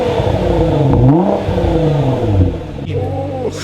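A Nissan GT-R engine revs hard through a loud aftermarket mid pipe and catback exhaust, pitch rising and falling across several throttle blips, close and continuous.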